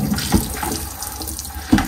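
Water runs steadily from a tap into a sink while large mud crabs are washed, a close, continuous splashing flow with a few louder spatters.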